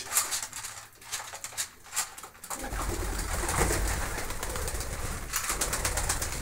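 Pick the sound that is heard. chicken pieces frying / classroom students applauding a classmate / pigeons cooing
pigeons cooing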